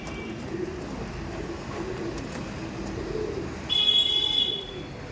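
Andhra Kalpetia pigeons coo softly at close range, low murmuring calls running through the clip over a steady background hum, with a brief higher tone near the end.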